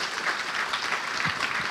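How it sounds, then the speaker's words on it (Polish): Audience at a book launch clapping steadily, a soft, distant patter of many hands lasting a brief moment. "Remigiusz Ziemianowicz, wielkie brawa."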